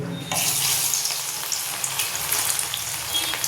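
Okra bonda fritters frying in a pan of hot oil, a steady close sizzle and crackle that starts abruptly and runs unbroken, with no voices.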